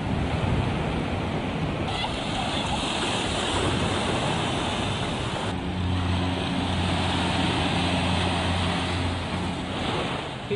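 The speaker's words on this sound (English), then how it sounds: "King tides are exceptionally rare even for Hawaii. These tides go above the highest water level reached during high tide on a normal day." King tide waves surge onto Waikiki beach in Hawaii, a steady loud roar of surf with wind buffeting the microphone and a low engine-like hum joining partway through.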